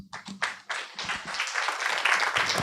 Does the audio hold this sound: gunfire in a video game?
no